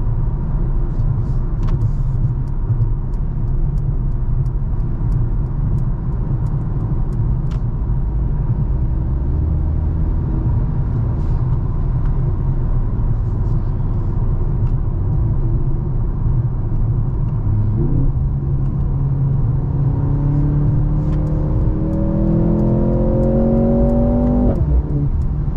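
Interior of a 2023 Mercedes-Benz C43 AMG with its 2.0-litre turbo four driving on the road, a steady low engine and road rumble building as it accelerates, with rising engine tones near the end.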